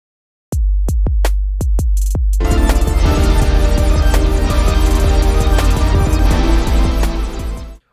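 A Logic Pro X Live Loops pattern starts with a few evenly spaced low kick hits, then a full beat with bass and sustained chords kicks in and plays loudly and steadily to the end, with no talking.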